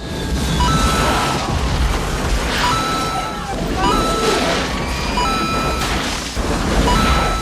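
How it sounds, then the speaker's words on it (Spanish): Heavy movie explosion booms and crashing blasts roll one after another in a dense, loud wash, with a tonal music-like layer running underneath. "Pero antes, más explosiones."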